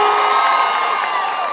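An audience cheers and applauds at a live show in a brief, loud burst of shouting and whooping crowd noise.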